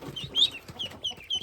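Farm chickens clucking close by, a few short bursts of soft clucks and brief high squawks spread across a quiet background.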